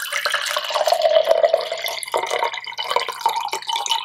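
Herbal detox tummy tea poured from a container into a cup, giving a steady liquid trickle with a brief pause midway, close and fairly loud with no talking.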